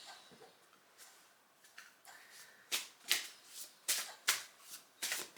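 A deck of playing cards being shuffled up close, a run of crisp riffling bursts that grow louder and repeat in a steady rhythm over a quiet room, with no talking.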